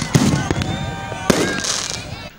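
Fireworks crackle and burst at a midnight independence celebration in Gwadar, Pakistan, with a couple of sharp loud pops over a continuous fizzing and crackling wash, and voices mixed in.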